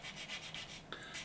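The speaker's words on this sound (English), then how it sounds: "So I'm now physically sanding the white" Close, faint rhythmic rubbing as white paint is sanded on a Revell Me 262 plastic model kit, with several even back-and-forth strokes and one small scrape near the end.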